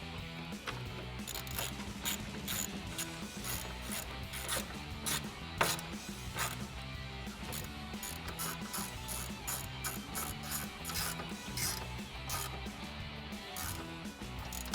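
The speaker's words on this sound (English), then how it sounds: "we could take our 11mm socket, position that up, and tighten this down" An 11mm socket on a ratchet clicks in quick bursts as it tightens a clamp bolt on a Pace Edwards UltraGroove retractable bed cover fitted to a Toyota Tundra. The ticking is close and quiet and comes in uneven runs.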